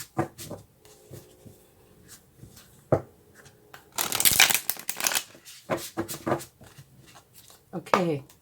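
Tarot cards shuffled by hand in a bursty, rustling riffle, with a louder dense flurry midway and scattered soft taps and slides around it; a person talks intermittently over the shuffling.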